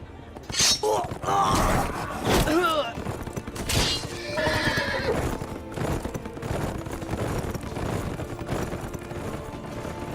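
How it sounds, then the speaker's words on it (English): A horse whinnies loudly amid clattering hooves, crashes and game effects, with dramatic voices shouting over the noisy, busy scene as a runaway horse gallops in Telltale's Game of Thrones video game. "Great, now I'm on a runaway horse."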